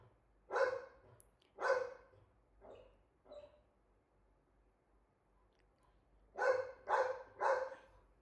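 A dog barks close by in two bursts, four sharp barks first, then a quiet gap, then three more barks in quick succession.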